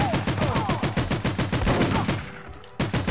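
Rapid automatic gunfire from an MP5 in the 007: The World Is Not Enough video game, a fast regular burst of loud close shots that briefly pauses before resuming.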